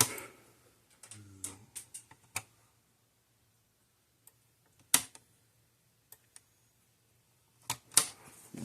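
Sparse sharp clicks from the switch of a Gallagher E12 electric fence energizer being repaired, coming in small irregular bursts between long quiet gaps over a faint low hum.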